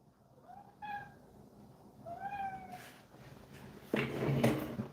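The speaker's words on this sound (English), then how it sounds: "It's just me talking to my cat." A house cat gives two clear, fairly close meows about a second apart, followed by a brief rustling noise, in a quiet indoor room.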